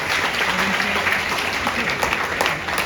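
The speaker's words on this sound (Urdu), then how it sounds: "ان کے لیے بھی اگر تالیاں بجا دی جائیں" An audience at a university certificate ceremony claps steadily, a dense wash of applause that holds evenly throughout with a voice faintly present.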